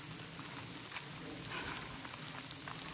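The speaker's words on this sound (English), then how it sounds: "It's hard to do much when it's raining." Steady rain pattering on the Appalachian Trail on a cold early-spring day, a dense, even hiss of drops on surfaces with scattered louder taps, close around the listener and continuous throughout.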